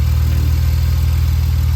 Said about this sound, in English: Sounds like it's got a little bit of an exhaust leak